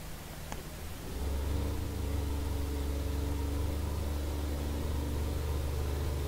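A Case tractor engine in a farming game settles into a steady, low droning hum as it drives along, holding an even, continuous note with no talking.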